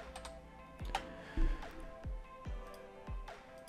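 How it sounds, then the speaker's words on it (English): Quiet, sparse keystrokes on a computer keyboard, about six separate taps spaced out over a few seconds, close and soft with no speech. "I'm going to simply type page,"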